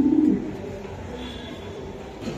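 Pigeons coo in a soft, low throaty burst at the start, then fade into a quieter ambient background, close by and with no talking.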